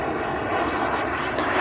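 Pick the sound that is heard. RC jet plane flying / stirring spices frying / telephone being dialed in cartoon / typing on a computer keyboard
RC jet plane flying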